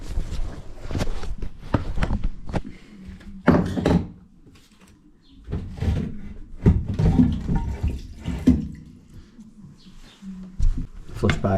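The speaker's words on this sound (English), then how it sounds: "Flush pipe pulled out." A flush pipe being pulled out of a toilet during a plumbing job gives scattered clunks, scrapes and knocks in bursts, with a quieter gap midway and faint water-like rustle.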